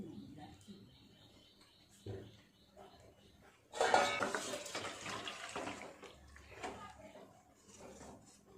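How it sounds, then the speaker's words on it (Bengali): Water runs and a wok is scrubbed clean in a home kitchen while fish curry cooks, with a loud burst of splashing and pots and pans clattering midway, then softer rinsing. "কড়াটা পরিষ্কার করে ধুয়ে বসিয়ে দেব।"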